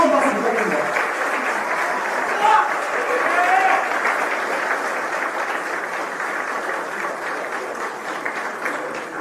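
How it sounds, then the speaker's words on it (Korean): Sustained applause from a hall audience at a financial workers' union delegates' meeting, a steady dense wash of clapping that runs the whole time without a break. "이제는 모든 내리분들도 뜨거운 박수 부탁드립니다."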